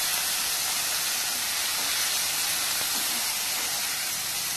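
Tomatoes and turnip sautéing in a pan hiss steadily for a few seconds, a continuous broadband sizzle with no talking over it.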